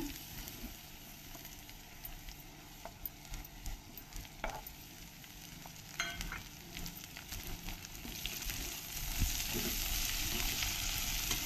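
Coriander sizzles and is stirred in a hot pan of oil while fried eggplant bharit is made, with a steady close crackle, scattered scraping clicks, and a fry that swells louder toward the end; no talking.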